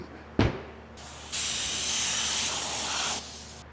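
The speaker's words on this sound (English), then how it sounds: "Using a steamer because our heat gun broke" A handheld steamer hisses steadily at close range for nearly two seconds while softening the vinyl seat cover of an 1980s Honda MB5 Sport moped, preceded by a sharp knock and a brief lighter hiss.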